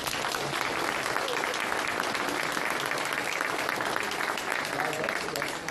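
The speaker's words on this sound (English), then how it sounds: "Let's give them a round of applause." An audience at a city State of the City address applauds the members of Scout Troop 330 with steady, dense clapping, loud and sustained throughout with no break.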